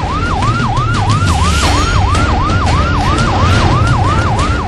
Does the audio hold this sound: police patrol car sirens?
yes